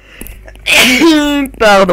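A single sharp sneeze bursts out close and loud, followed by a brief spoken word from the same voice.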